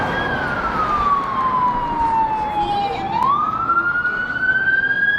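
A police siren wails loud and close, one long tone sweeping slowly down, then rising again, with steady road and traffic noise beneath it and no talking.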